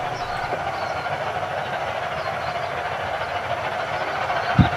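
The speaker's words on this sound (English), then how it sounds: "Here at last, the train we're waiting for." A Ravenglass & Eskdale Railway train, just two coaches, approaches at a May gala with a steady low rumble and faint hiss that hold level throughout, ending in a brief sharp knock.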